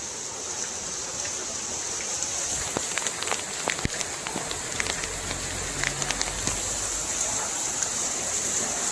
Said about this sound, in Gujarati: જો ઝરમર ઝરમર ચાલુ.